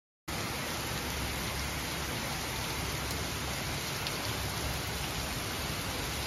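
Dense, steady monsoon rain in Chennai roars without pause, a close and continuous wash of heavy downpour with no voices.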